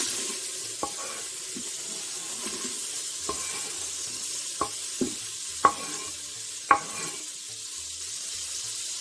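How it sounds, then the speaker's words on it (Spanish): Chopped onion hitting hot fat in a pan sizzles softly and steadily, broken by several sharp utensil knocks and scrapes spaced a second or so apart, with no voices. "Ahora le vamos a añadir la cebolla picada."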